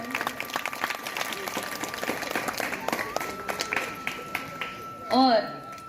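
An audience at a Gayatri Parivar yajna on International Women's Day in Bhind claps steadily and moderately loud across the whole stretch, mixed with voices talking, before a brief louder voice near the end.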